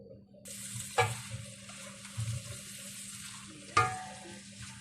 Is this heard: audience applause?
no